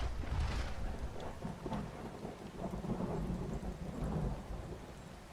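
Thunderstorm in the storm-chasing game OUTBRK: low rumbling thunder rolling under a steady wash of rain, swelling and fading over several seconds, with no speech.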